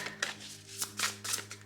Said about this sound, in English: difficult to shuffle because this is a big deck